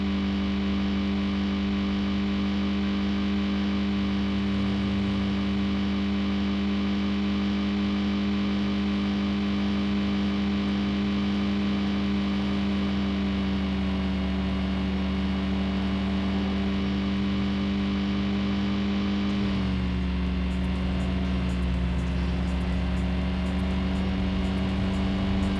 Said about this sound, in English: Now I'm speeding up again.